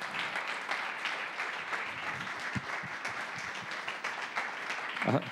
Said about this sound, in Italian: un applauso a loro io lo farei